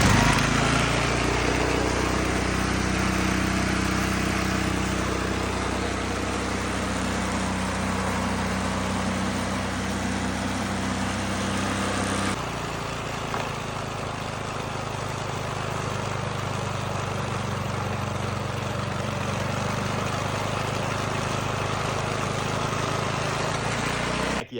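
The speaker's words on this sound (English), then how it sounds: "Let's go install it back on the snowblower, see what she does." A snowblower engine runs at steady throttle after a surging repair, a continuous even drone that shifts slightly in tone partway through without hunting or faltering.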